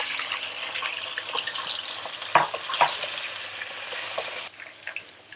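Boiled beef fries in a pot for korma, with a soft steady sizzle and a few sharp clattering stirs near the middle before the frying quiets slightly toward the end.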